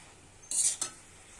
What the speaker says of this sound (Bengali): আমি ঢাকনাটা এবার খুলে নিলাম